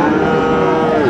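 A Friesian bull calf at a cattle market gives a single loud, sustained moo, close and clear against the market background.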